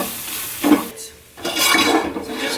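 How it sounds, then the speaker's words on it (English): Vegetables get a light sauté in a pan for crawfish étouffée: a soft continuous sizzle with scraping and stirring strokes, briefly quieting before the frying noise swells again. "all we're doing is just giving a light saute because this is going to cook for a while"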